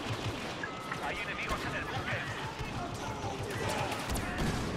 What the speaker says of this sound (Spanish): ¡Explosiones, muerte! Pum, pum.